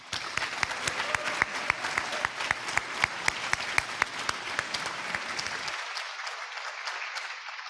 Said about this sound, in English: let's have another round of applause for our students